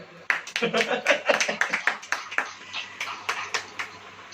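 A church congregation claps hands during a Hindi sermon, a run of irregular, fairly close claps over several seconds, with a voice speaking faintly underneath.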